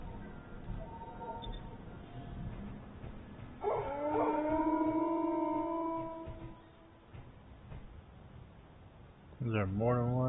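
Dogs in the Space Engineers video game break into drawn-out, wavering howls that overlap for several seconds, then a louder rising yelp near the end, all under a steady low rumble with a voice talking.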